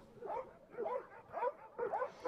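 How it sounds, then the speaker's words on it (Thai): One of Mexico's rescue dogs, sent to help after the earthquake in Turkey, gives four short, evenly spaced barks, moderately loud and fairly close, with no one talking. "โปรเทโอเป็นหนึ่งใน16สุนัขกู้ภัยที่เม็กซิโกส่งไปช่วยเหลือตุรกีตั้งแต่6กุมภาพันธ์ที่ผ่านมา"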